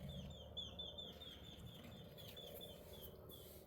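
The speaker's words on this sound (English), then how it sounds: "I hear a lot more birds in my yard than I did when we first moved here" Several birds chirp and twitter outdoors, quick repeated high calls over a low steady background hum, fairly faint and distant.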